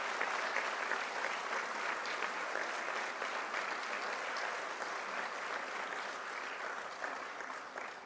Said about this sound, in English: please give a thunderous round of applause